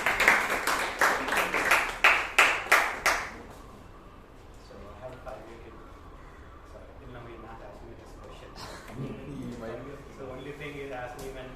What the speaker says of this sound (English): I know the topic is morose, but let's encourage Srinivas with a round of applause